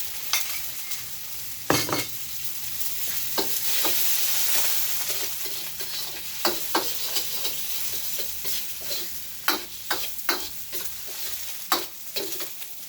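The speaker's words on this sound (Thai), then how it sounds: "ผัดให้เครื่องในมันสุกนะครับ" Offal and sweet banana peppers stir-fried in a pan with water and sugar added, giving a steady sizzle broken by repeated sharp scrapes and clacks of a spatula against the metal, close and fairly loud, with no talking.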